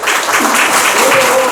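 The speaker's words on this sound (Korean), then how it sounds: "큰 박수로 맞이해 주시기 바랍니다" Brief burst of audience applause welcoming a former Hyundai Heavy Industries chairman to the stage for a lecture, loud steady clapping across the short moment.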